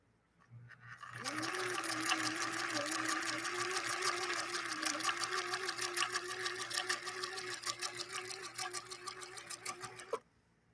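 A Viking Husqvarna 19E sewing machine runs steadily for about nine seconds, sewing a blind hem stitch with a rapid needle clatter and motor hum. It starts and stops cleanly, close and alone with no talking.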